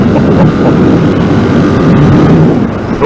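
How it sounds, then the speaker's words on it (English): A 2019 Royal Enfield Interceptor motorcycle's exhaust note while riding: a loud, steady low engine drone with rumbling texture, close up and continuous, with wind noise and no speech. "A little bit of an electric whine there, but boy, that exhaust note"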